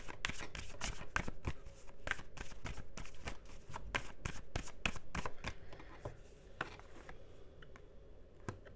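Tarot cards are shuffled close up, a quiet run of crisp, irregular riffling snaps and slaps that continues for several seconds and thins out toward the end, with no speech over it.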